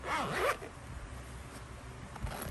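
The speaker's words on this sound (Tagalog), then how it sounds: "water repellent zipper" A water-repellent zipper on the travel case of Bose 700 noise-cancelling headphones is pulled open in one quick close-up zip, followed by faint handling noise.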